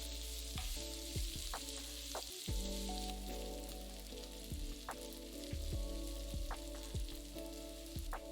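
Three finely sliced onions sauté in a pan for a potato curry, a close, continuous sizzle broken by repeated stirring scrapes and clinks, with no voices.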